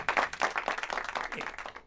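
A studio audience on a talk show breaks into brief applause, a dense patter of clapping hands that swells quickly and fades within a couple of seconds.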